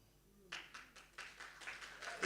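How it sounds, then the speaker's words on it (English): An audience at a media awards event claps hands in several uneven bursts, moderately loud and somewhat distant in a large hall, starting after a quiet moment. "You are clapping hands and excited."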